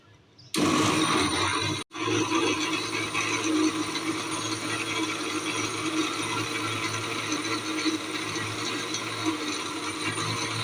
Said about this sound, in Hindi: अब इसको अच्छे से ग्राइंड कर लेते हैं हम।